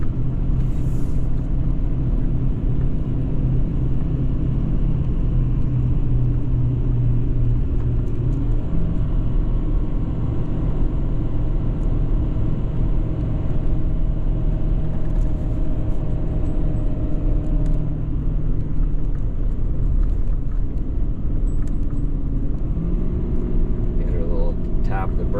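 A 2017 Ford F-550 Powerstroke diesel truck coasts downhill on a road, a continuous loud engine and road rumble inside the cab with occasional shifts in pitch and no talking.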